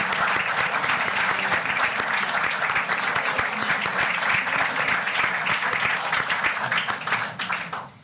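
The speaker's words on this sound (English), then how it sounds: "Let's give them a quick round of applause." A quick round of audience applause at a board of education meeting honoring staff for 25 years of service, steady moderate clapping from a seated crowd that fades out near the end.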